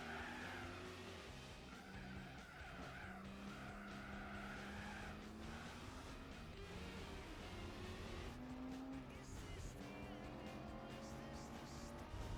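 Gran Turismo 4 race cars drag racing side by side, engines roaring loud and steady with shifting pitch as they accelerate, tire squeal mixed in throughout, continuous and close.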